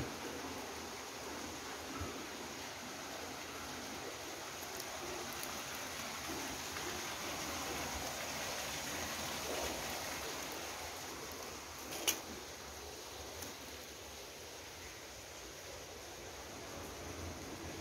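Steady, faint broadband rush of a river flowing past an abandoned small hydroelectric plant, continuous and distant, with a single brief knock partway through.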